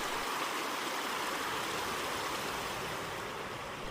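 Creek water in Sheep River Canyon rushes steadily in a shaded stretch during mid-afternoon, a dense, even wash of flowing water that stays constant throughout with no voices.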